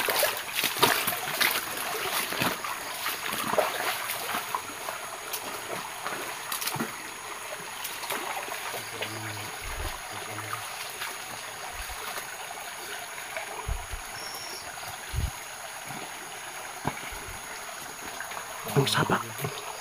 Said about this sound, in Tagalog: Ang sapa.